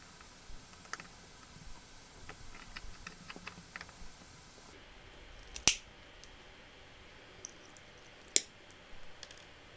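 Small clippers snip the coil leg ends on a dripper atomizer (RDA), giving faint quiet clicks and two sharp, distinct snips against a near-silent background.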